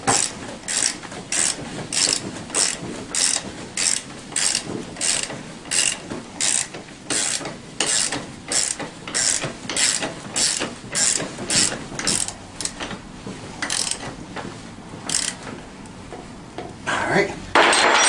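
A hand ratchet tightens a 14 mm bolt on a TaoTao CY50A scooter in a long run of rhythmic, close clicking strokes, loud and regular with short pauses, alone without talk.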